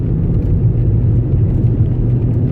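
A Citroën Nemo van cruising in fifth gear gives off a steady, close engine drone and low road rumble with no breaks or gear changes.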